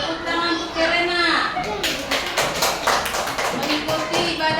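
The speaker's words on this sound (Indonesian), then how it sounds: "Tepuk tangan untuk Verena." A classroom of students applauds a classmate named Verena, a burst of quick scattered claps following a spoken voice, fading into lighter claps.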